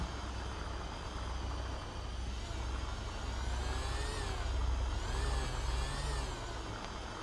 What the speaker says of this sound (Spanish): Está todo lleno de camiones, tío, de los de reparto.